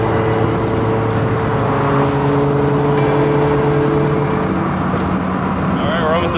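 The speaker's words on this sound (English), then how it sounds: "I'm now driving a Miata on Driftweek 3" A Mazda Miata drives toward a track during Driftweek 3, its engine droning loudly and steadily from inside the car with road noise, the pitch rising briefly near the end.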